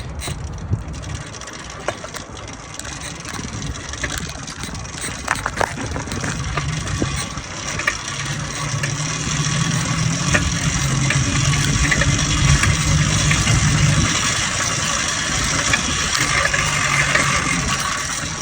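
A restored motorized bike with a rebuilt clutch is cranked in a start attempt, giving a close, rough mechanical clatter and ratcheting that swells into a sustained sputtering engine drone in the second half.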